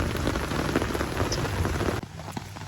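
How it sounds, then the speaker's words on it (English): Steady heavy rain falls during a thunderstorm beside a muddy ditch, a dense close hiss of drops on surfaces that briefly softens near the end. "I'm ready for this rain to let up so I can head out."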